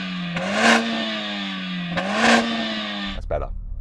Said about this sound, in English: Let's have a listen to the Mercedes, Sam.